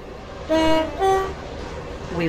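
A Roblox Stepford County Railway train approaches Stepford East with two sustained horn tones in quick succession, followed by a softer tone near the end, over continuous rolling rail noise.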